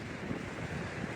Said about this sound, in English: It is a little bit windy today, so excuse the sound quality